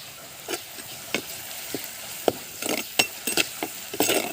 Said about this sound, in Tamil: நல்லா வெங்காயம் தக்காளி எல்லாம் நல்லா வதங்கட்டும்